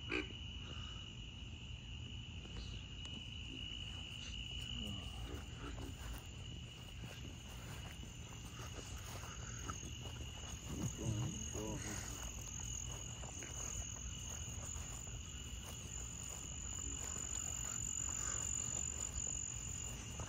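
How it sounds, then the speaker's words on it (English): Frogs croaking at night in a swamp with crickets, a dense continuous chorus of trilling and chirps filling the background, fairly distant, with no voices. "what those people are hearing at night are the frogs"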